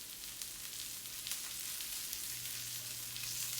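Shrimp in a guajillo pepper marinade sizzle steadily in a hot pan, a dense, even crackle that stays constant throughout without any talking.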